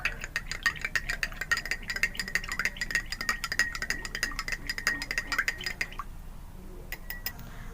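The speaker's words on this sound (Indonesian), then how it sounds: "Setelah itu, saya aduk sampai merata." A metal spoon stirs milk in a glass, clinking rapidly and rhythmically against the sides for about six seconds before a few final taps; the sound is close and fairly quiet, with no talking.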